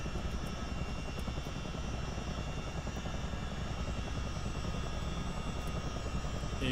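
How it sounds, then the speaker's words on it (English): Steady, loud whine and rumble of a CH-47D helicopter's APU running inside a flight simulator game, a continuous droning hum with tonal lines that holds evenly throughout without a break. "APU will come on."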